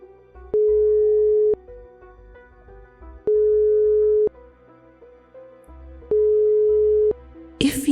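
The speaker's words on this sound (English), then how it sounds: "As I got to the station, I pulled out my phone and called my mum." Phone call tone on a mobile, three long steady beeps evenly spaced about every two and a half seconds over a faint low hum, ending in a short burst of noise.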